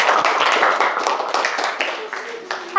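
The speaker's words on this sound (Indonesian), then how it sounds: "tepuk tangan dulu buat Aan." Students in a classroom clap together in a burst of scattered, fairly close applause that thins out over a few seconds, while a teacher talks over it.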